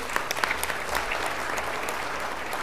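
Applause from the audience at a city council meeting, a steady crowd clapping at even level with a few sharper claps up front.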